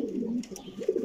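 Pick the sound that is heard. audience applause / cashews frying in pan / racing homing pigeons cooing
racing homing pigeons cooing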